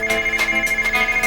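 A telephone ringtone repeats in quick, steady electronic pulses, loud and close, with no talking over it.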